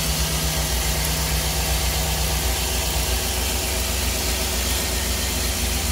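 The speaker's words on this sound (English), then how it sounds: "Once you're sure, you could crank the engine." A 2010 Chevrolet Express 2500 van's 4.8L engine idling after new spark plugs and ignition wires, a loud, steady mechanical hum with a constant low drone and no talking.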